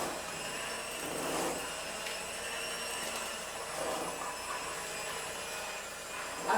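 An electric mixer whirs steadily as cake batter with flour is mixed, a continuous hum with slight wavering in pitch as it works through the bowl.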